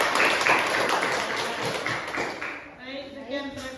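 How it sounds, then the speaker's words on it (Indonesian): Classroom applause for a student's economics presentation, a short burst of clapping that fades within a few seconds as voices continue. "tepuk tangan untuk Intan"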